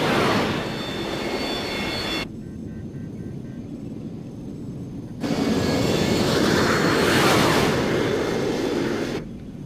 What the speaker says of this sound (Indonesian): Mereka pergi dengan 2 pesawat Gutswing.